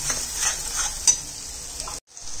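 Masala spices for misal stirred and sautéed in a hot pan, a steady close sizzle with scraping stir strokes and a sharp clink near the middle, cutting out abruptly then resuming.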